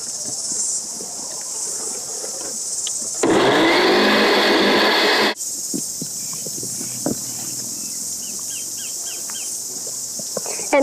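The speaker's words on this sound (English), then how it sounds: "And now we just need to blend it." A blender whirs loudly for about two seconds while blending dates for a raw vegan chocolate tart filling, starting and stopping abruptly amid steady outdoor insect and bird background noise.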